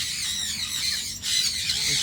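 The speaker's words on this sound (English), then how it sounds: "The blue back parrot," A blue-backed parrot, a species endemic to the Philippines, gives loud, harsh squawks close by in a continuous shrill burst with a brief dip midway.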